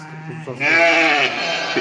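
A flock of sheep and lambs bleats close by, one loud quavering call rising out of softer bleats, with the herd's low background noise continuing underneath.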